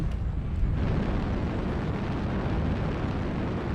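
A video game airstrike explosion sounds as a deep, rumbling blast that starts abruptly and then rolls on as a sustained low roar at moderate level, with no voices.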